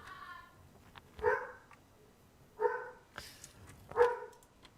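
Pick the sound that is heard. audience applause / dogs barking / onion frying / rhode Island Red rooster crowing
dogs barking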